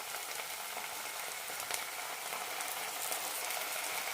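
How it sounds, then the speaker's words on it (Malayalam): Chicken and cabbage with Kashmiri chilli powder, tomato sauce and chilli sauce sautéing in a pan give a soft, steady sizzle and crackle, faint and continuous with no talking. "മുളക് പൊടി നല്ല റോസ്റ്റായി കിട്ടണം അതുവരെ വഴറ്റാം"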